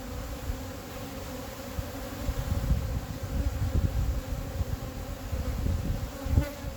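Honeybees hum steadily around an opened hive during an inspection, a close, continuous buzzing swarm with occasional louder passes near the microphone.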